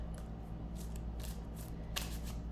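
A deck of cannabis-themed oracle cards is shuffled close by, with soft papery riffles and quick flicking bursts at a quiet level and no talking.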